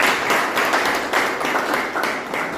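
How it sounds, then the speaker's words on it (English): Audience at a Toastmasters club meeting claps in a round of applause, a dense, even patter of many hands, fairly close and sustained throughout. "A big round of applause for both of them."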